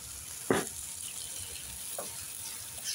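Egg poured into a hot pan of softened diet food lets out a sharp burst of sizzling that settles into a faint, steady frying hiss, with a second smaller flare a moment later. No voice is heard.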